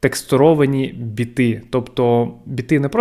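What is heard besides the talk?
No everyday noises stand out.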